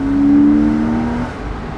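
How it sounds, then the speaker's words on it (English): A Porsche 986 Boxster S mid-engine manual car drones with a steady tonal intake hum that fades slightly, heard from inside the vehicle. "It's great intake noise,"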